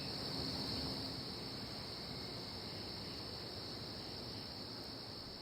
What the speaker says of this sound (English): At night, the katydids make a lot of noise